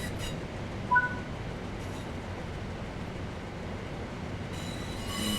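A train rolls steadily along in the Train Sim World 5 railway simulator, a low continuous rumble of wheels on track with a couple of brief squeals and clicks, heard alone at moderate volume.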